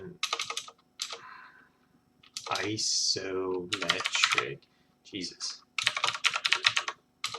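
Fast typing on a computer keyboard, with dense bursts of rapid keystrokes alternating with a man's speech between them.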